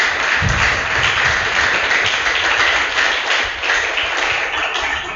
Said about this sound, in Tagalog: Isa pa ulit, isa pa palakpak.